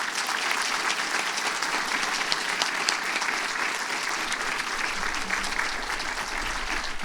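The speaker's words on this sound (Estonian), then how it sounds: "Palun suurt aplausi kõigile eelpool nimetatutele." Audience applause at a school graduation ceremony at Tallinn 32nd Secondary School: a large crowd claps steadily and loudly throughout, a dense unbroken patter with no talk over it.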